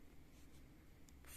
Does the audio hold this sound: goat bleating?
no